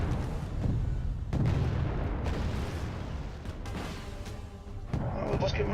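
Tank guns boom repeatedly on a battlefield in the video game Wargame AirLand Battle, heavy low rumbling blasts and distant explosions rolling under a voice talking throughout.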